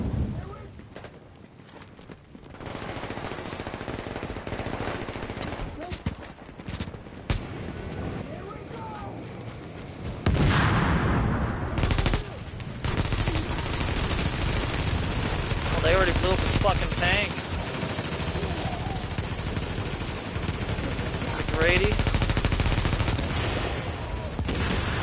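Gunfire hammers a boss in the video game The Division, sustained bursts running near and loud throughout under ongoing talk.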